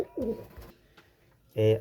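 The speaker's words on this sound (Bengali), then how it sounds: "একদম পিওর কোয়ালিটির রয়্যাল টেডি" Royal Teddy pigeon, a pure-bred leg-tagged flying bird, gives short low coos near the start and a louder burst at the end, with a little talk in between.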